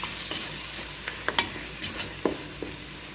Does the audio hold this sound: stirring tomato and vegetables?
yes